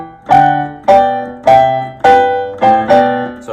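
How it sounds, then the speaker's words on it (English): Solo piano plays six evenly spaced, ringing right-hand notes, each doubled by a high G played with the pinky for harmony, and each note sustains and fades before the next. "So I'm just playing that G with my pinky with every single right hand note,"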